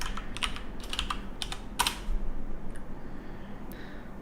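Code is typed on a computer keyboard in short, close bursts of crisp key clicks, separated by brief pauses, then fading into quiet room tone.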